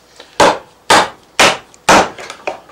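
Steel chisel struck with a mallet to chop a mortise in wood, four sharp loud impacts at a steady, unhurried pace followed by a few lighter taps, with no voices.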